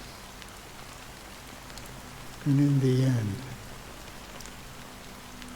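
Steady rain falls in Honkai: Star Rail, a soft continuous hiss of drops running throughout while a person speaks briefly over it in the middle.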